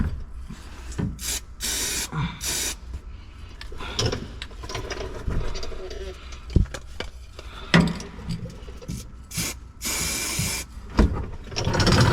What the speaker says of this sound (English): Give her a quick little spritz.